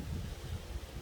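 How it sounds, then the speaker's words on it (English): Steady wind rumbles and buffets against the microphone, a low continuous roar with no other sounds. "It's a little windy out here."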